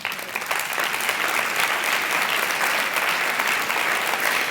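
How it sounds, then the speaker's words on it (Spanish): Steady, dense applause from a conference audience in a hall, sustained and fairly loud throughout with no voices over it. "Pero ese es mi aplauso."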